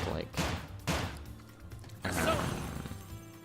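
Joker's gun in Super Smash Bros. Ultimate fires three sharp shots, two close together and a third a second later, each with a brief ringing tail.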